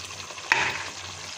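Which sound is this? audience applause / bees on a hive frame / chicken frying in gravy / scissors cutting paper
chicken frying in gravy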